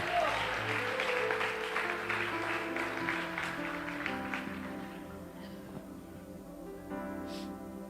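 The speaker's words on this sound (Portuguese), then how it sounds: "Se vai aplaudir, aplauda e glorifique o nome dEle." A church congregation claps loudly at first, then the applause thins and fades while sustained organ or keyboard chords come forward and carry on beneath.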